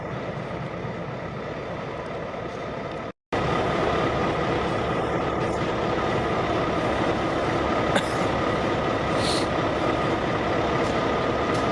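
Train 4104 on the High Bridge Branch at dusk during a holiday toy train event, heard as a steady, loud rumble of rail cars and engine noise that runs throughout, broken once by a brief cut near the start.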